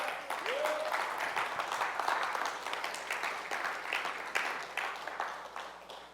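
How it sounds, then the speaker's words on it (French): A church congregation gives a short round of applause, scattered hand claps rising and fading over a few seconds at moderate distance, with a voice briefly audible. "En demi-applaudissement."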